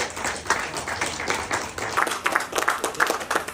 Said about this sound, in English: If you guys can give them a round of applause as they come up to the stage here